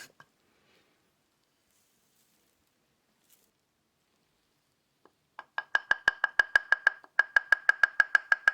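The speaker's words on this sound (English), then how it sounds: "we use a mortar and grind it really fine" Wild garlic salt gets ground in a mortar with a pestle, beginning with quiet, sparse knocks and then settling into a fast, steady run of crisp, gritty pounding strokes heard up close.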